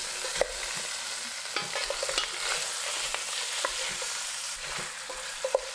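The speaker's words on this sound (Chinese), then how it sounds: "放入豆瓣酱，把豆瓣酱炒香，放入小羊腿" Lamb shanks stir-fried with bean paste in a wok: soft sizzling with repeated scraping and stirring clicks of the spatula, moderate and close, no voices.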